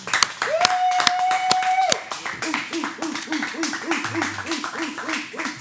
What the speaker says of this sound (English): How about a round of applause for the 2019 People's Choice, Tyson McWilliams